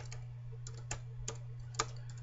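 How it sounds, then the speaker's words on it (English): Keys on a computer keyboard are tapped in a sparse, uneven run of soft clicks, with a few stronger presses, close and quiet over a steady electrical hum. "I'm going to type in my keywords again."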